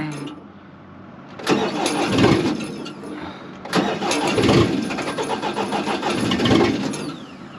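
A heavy equipment engine starting and revving outdoors in light rain while it is readied for a trailer: a rough crank catches into a loud rumble, drops back, then surges again into sustained revving at close range.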